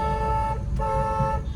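A car horn sounds in city traffic as two close, steady honks broken by a short gap, heard over a constant low road and engine rumble.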